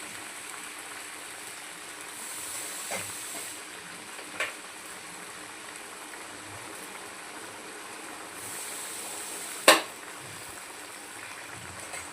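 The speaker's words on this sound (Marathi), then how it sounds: "आता आपल्या बटाट्यांना उकळी आलेली आहे" Water with potatoes in it bubbles gently at a low level, a faint steady simmer broken by a few sharp pops and clicks.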